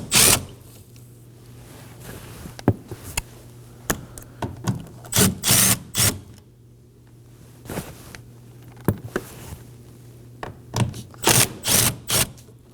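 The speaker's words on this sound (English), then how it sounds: "While holding on the mirror, go ahead and remove them using a 10mm socket." A 10mm socket ratchet removes the bolts holding a Kia Sorento side mirror, with scattered bursts of close, sharp clicking separated by quiet pauses.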